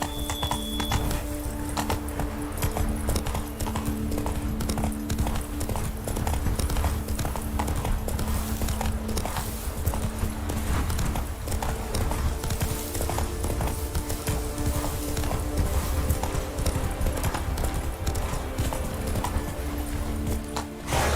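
Horse hooves clip-clop steadily at a trotting pace in The Witcher 3 video game, a continuous rhythmic clatter with faint game ambience and occasional voice lines.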